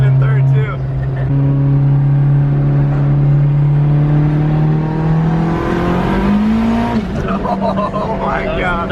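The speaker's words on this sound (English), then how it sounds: "Third gear squealing tires." A wagon car on a power run accelerates hard in third gear, its engine note climbing steadily and loud while the tires squeal and spin, with people talking and reacting over it.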